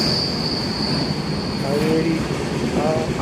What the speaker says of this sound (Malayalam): എറണാകുളത്ത് നിന്ന് തിരുവനന്തപുരത്ത് പോകുന്ന ട്രെയിനാണ് അതാണ് ഓടിപ്പോയിക്കൊണ്ടിരിക്കുന്നു